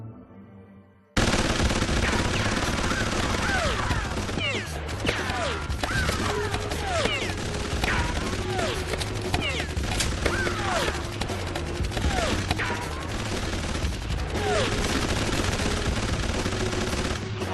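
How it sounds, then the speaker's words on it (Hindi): Sustained rapid gunfire from an animated film rattles on for over fifteen seconds, dense bursts of shots overlapping with cracks and impacts, loud and continuous. "वो यहाँ सब पर गोली चला रहा है।"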